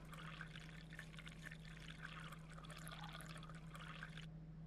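Water poured while making pizza dough in the video game At Tony's, a soft continuous trickling stream running for several seconds before stopping, faint against a steady low hum.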